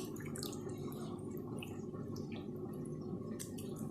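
Water is poured over dry couscous in a home kitchen, making a steady, close trickling and splashing that continues throughout with no talking.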